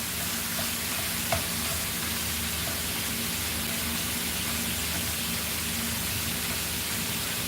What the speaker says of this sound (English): Sorry for the sizzle, but I can talk loud.